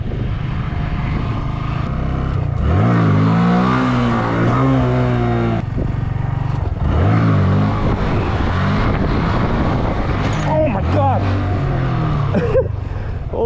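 A Honda Grom motorcycle engine revving and climbing in pitch during a wheelie in a parking lot, loud and close with rising and falling throttle sweeps, a rider talking over it.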